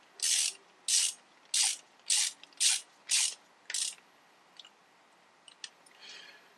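A socket ratchet works on the carburetor of a Briggs & Stratton 550EX small engine, making seven quick, close, rhythmic bursts of ratcheting clicks, followed by a few faint scattered clicks and a soft rub.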